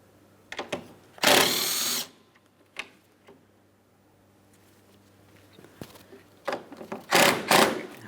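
A power tool removes headlight mounting bolts on a 2008-2016 Chrysler Town & Country, with short whirring bursts of a drill or impact driver separated by quiet gaps and small clicks, close and fairly loud.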